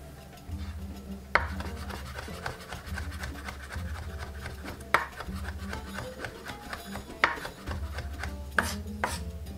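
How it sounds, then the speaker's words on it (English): Knife strokes chopping Kalamata olives into small pieces for oven-baked Greek bruschetta, a steady run of close, rhythmic taps on a board with a few sharper, louder knocks, under low background music. "So we're gonna chop the Kalamata olive small pieces as well."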